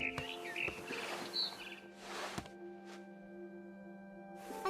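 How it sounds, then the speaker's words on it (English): A barn swallow chirps in the game What Remains of Edith Finch, a few short, bright calls heard near over a steady tonal hum and sparse ambient noise, with no speech. "Then I heard chirping outside my window. It was a barn swallow going back to her nest."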